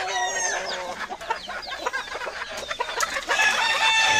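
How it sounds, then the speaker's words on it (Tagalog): A hen and rooster pair clucking and crowing close by, with repeated sharp clucks and a drawn-out cock-a-doodle-doo rising over each other in quick bursts. "Mag-asawang pares na manok."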